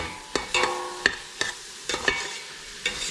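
Vegetables and onions sweat in a pan for rice pilaf while a utensil stirs them, producing irregular, sharp scraping knocks against the pan over a soft, continuous sizzle.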